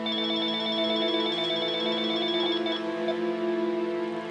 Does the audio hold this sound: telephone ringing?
yes